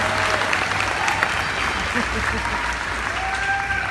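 Dense, steady crowd applause at a Star Wars Galaxy's Edge presentation during a Galactic Nights event, fairly loud and continuous throughout, with faint tonal whistles or cheers mixed in.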